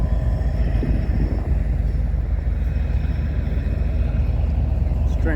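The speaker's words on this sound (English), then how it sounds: "String of hoppers." A Lake State Railway shortline mixed freight train rolls by with a string of hopper cars, a steady, loud, continuous rumble and rattle with no break throughout.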